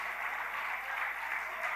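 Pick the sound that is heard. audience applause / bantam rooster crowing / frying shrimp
audience applause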